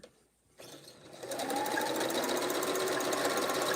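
A sewing machine starts up after a brief quiet and settles into a loud, steady whir of rapid stitching as fabric pieces of a quilt block are sewn together.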